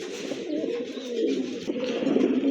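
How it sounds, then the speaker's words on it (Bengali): Pigeons coo steadily and close by, a low throaty burbling that continues throughout, from a pair of large, well-marked Rajgolla pigeons offered for sale. "আরেক জোড়া কবুতর, রাজগোল্লা কবুতর"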